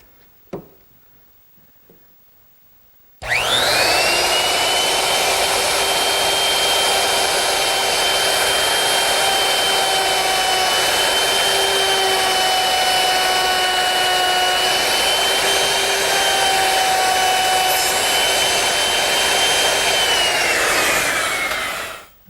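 A router fitted with a 5/32 ogee bit guided by a ball bearing mills a molded profile along a wooden edge. After a quiet start it spins up into a loud, steady high whine that holds for about twenty seconds, then winds down.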